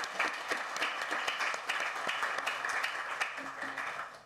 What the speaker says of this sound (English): I would like to have another round of applause for all the presenters of this morning's session.